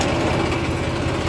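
A tractor engine runs steadily in a field in the evening, a loud, continuous close-up drone with an even low rumble and no talk over it.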